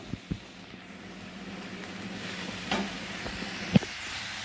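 Water is poured into a pan of frying onion and poppy seed paste, giving a soft steady sizzle and hiss with a few sharp clinks and taps from the pan.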